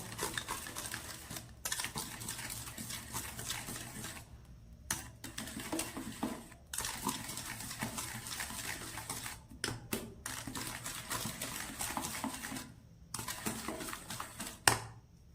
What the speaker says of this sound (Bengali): এটা খুব ভালোভাবে আমি নেড়ে নেব